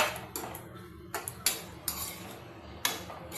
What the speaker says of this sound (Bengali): ঝিঙেটা নাড়াচাড়া করে নিচ্ছি ভালো করে কষিয়ে